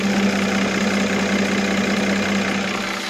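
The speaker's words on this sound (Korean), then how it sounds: "휘발유 엔진을 탑재해서 엔진 속 정말 조용하고 정숙한 차량이고요" A well-kept gasoline engine idles under an open hood, a steady, smooth, close hum with no variation for the whole stretch.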